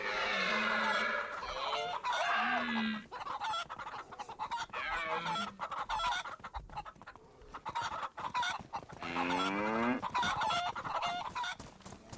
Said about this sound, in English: There's some chickens for you guys.